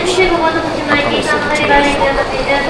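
A train running from Okayama on Honshu into Shikoku, Japan, rumbles along steadily with a continuous mechanical roar, with people talking over it throughout.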